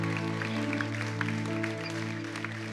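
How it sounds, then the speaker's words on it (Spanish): A church congregation claps their hands in worship, the claps soft and steady beneath loud sustained music and singing. "Dale una ofrenda de palmas al Señor."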